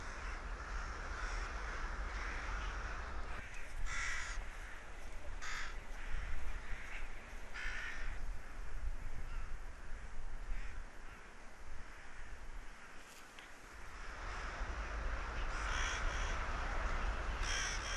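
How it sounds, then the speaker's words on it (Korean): A huge flock of rooks, around a hundred thousand birds, cawing continuously near a bamboo grove, many harsh calls overlapping at a distance over steady wind and outdoor rumble. "떼까마귀는 대숲 근처에서도 흩어졌다 모였다를 반복합니다"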